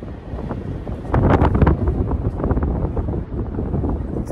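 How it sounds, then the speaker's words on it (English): Strong wind at the seaside in Porthcawl, Wales, with a rough sea nearby, a loud continuous roar of gusts battering the microphone, rising in a stronger blast partway through, with no speech. "just to prove how windy it actually is."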